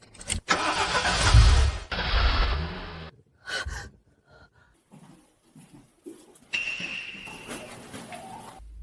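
A car engine cranks and catches in a couple of loud bursts, then sputters and goes quiet, followed by faint rustling, a gasp-like breath and a later rising engine whine.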